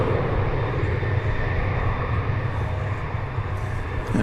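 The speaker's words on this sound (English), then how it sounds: "An A321neo. Just now getting ready to clear the trees here." Airbus A321neo airliner taking off at DFW Airport and climbing over trees, a loud continuous broadband jet engine roar that holds steady throughout.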